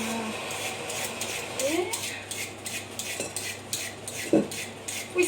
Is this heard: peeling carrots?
yes